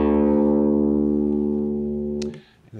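A single low guitar string tuned down to drop D rings out loud and sustained, slowly fading, then is cut off by a short burst of noise and a soft voice.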